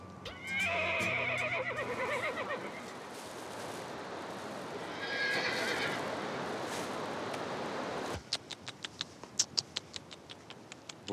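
A horse in Kyrgyzstan neighs loudly twice over a steady outdoor rush, then a series of sharp, evenly spaced hoof clops ring out near the end.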